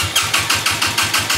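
A small motorcycle engine runs at idle with a quick, even chugging pulse, close by and steady.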